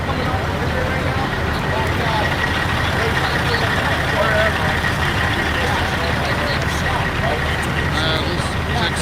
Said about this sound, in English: I don't know, but the truck's running.